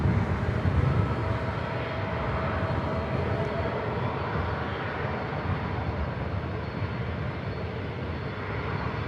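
A United airliner on arrival from London Heathrow, landing on the north side of LAX airport, gives a steady, loud engine roar that holds for the whole stretch and slowly fades a little, with no talk over it.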